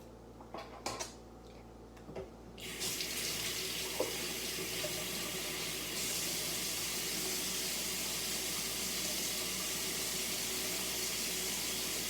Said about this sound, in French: lavez-vous bien les mains